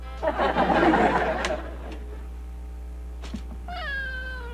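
A cat meows up close, a drawn-out wavering cry followed by a few short sounds and a rising meow at the end.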